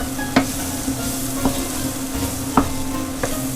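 Flour cooking in a pan over medium heat for a venison or beef stroganoff, a continuous sizzle broken by four or five sharp scraping strokes of a utensil at roughly regular intervals, close and fairly loud.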